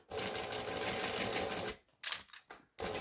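A sewing machine stitches fabric for a hippie van bag, running in a loud, continuous whir for almost two seconds, then in a short burst and a final restart after brief pauses.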